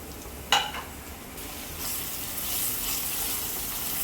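Chili powder sizzles in a pan as it is stirred through, a soft steady hiss opened by one sharp clink and swelling slightly as stirring continues.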